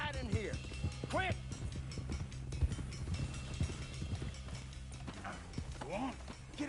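Horse hooves clopping in the Red Dead Redemption 2 video game, a run of quick rhythmic hoofbeats close by with a couple of neighs and whinnies, alongside game music and characters speaking.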